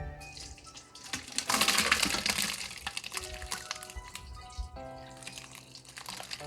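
Hot curdled milk for farmer's cheese is poured through cheesecloth into a colander set over a bucket, a steady rushing, splashing pour that swells then trails into drips, with faint background voices.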